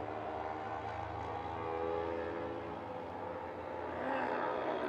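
A Yamaha R3 racing motorcycle accelerating during a 400-class race at Interlagos, a sustained droning engine note that holds steady and swells slightly toward the end, heard alone with no voices.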